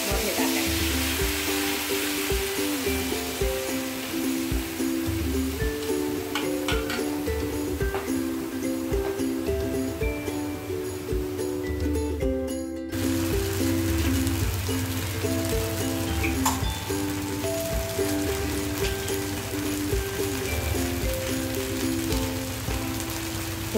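Rava dosa batter frying on a hot pan gives a steady sizzling hiss like rain on a surface, continuous and close throughout, under a background of music.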